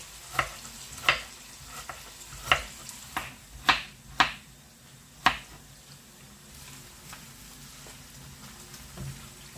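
Onion and meat sizzle quietly in a frying pan while a utensil knocks and scrapes against it every second or so, the clacks fading toward the end.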